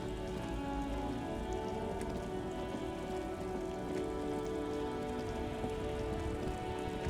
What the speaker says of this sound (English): All around you, rain falls on the great city of Rivershaw.